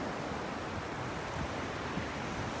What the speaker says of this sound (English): or the sea coming in and out.